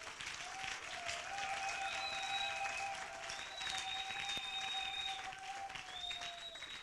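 A church congregation claps in praise during a service, a faint, fairly distant rush of hands overlaid with long sustained whistles or high vocal tones gliding above the clapping.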